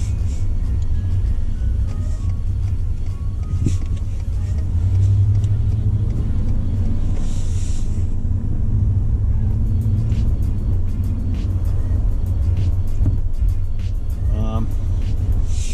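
A 2018 Ford F-150 pickup's direct-injection engine, heard from outside the truck, idles and runs with a steady low rumble, while someone talks over it throughout; occasional clicks and ticks sound near the end.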